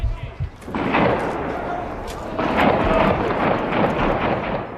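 Dense, continuous crackle of distant gunfire as the Syrian army and rebels fight over a town, rolling on steadily without clear individual shots, with a faint murmur of voices underneath.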